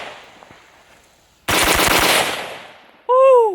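A suppressed Zastava M90 AK rifle fired as a quick double tap, giving one loud, dense burst of shots heard up close, then a short quiet gap before a tonal electronic beep.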